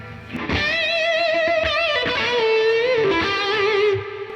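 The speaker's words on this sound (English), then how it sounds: "So that's like the reverb, like the huge reverb." Electric guitar through a Universal Audio pedal set to a huge studio reverb, sustained distorted notes that bend and shimmer with a long wash, played alone and close.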